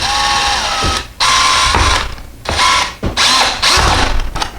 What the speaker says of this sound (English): Now we're going to switch over to our screwdriver bit.